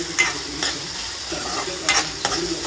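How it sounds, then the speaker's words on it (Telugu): Onions sizzle in hot oil in a pan for egg bhurji, a steady frying hiss broken by several scraping stirs of a spatula, close and fairly loud with no talking. "ఆనియన్స్ వేసాను. ఇది ఇప్పుడు కలిపేద్దాము."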